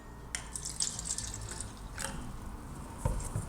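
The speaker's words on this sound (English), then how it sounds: "Let's pour some tap water here." Water pours from a tap into a container, a steady splashing trickle with a few drips, close by and fairly quiet.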